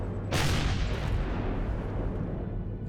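Gun turrets fire in the space survival game Empyrion Galactic Survival, a single heavy boom that hits sharply and then rumbles away over a couple of seconds.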